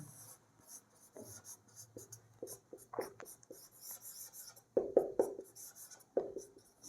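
Chalk or marker strokes scratch across a board during a linear algebra lecture, short intermittent scribbles and taps spaced through the clip, quiet and close, with no talking.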